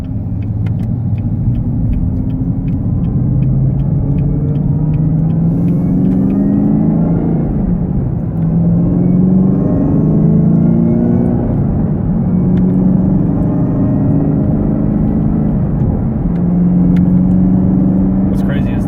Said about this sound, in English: What's crazy is that dual mode exhaust isn't even all the way open yet.